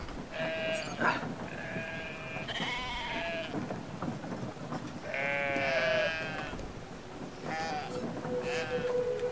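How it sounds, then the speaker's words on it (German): Sheep bleat repeatedly in the video game Brothers: A Tale of Two Sons as they are herded onto a bridge, several overlapping calls over light wind and ambient noise. "Alle 4 Schafe müssen auf die doofe Brücke in diesem Falle."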